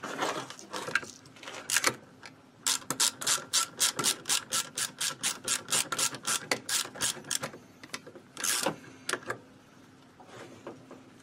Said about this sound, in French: Il n'y a plus qu'à resserrer.